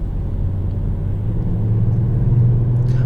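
Kia Stinger GT1 AWD engine pulling hard toward redline with a steady low drone that builds in pitch and loudness, heard from inside the car with no talking.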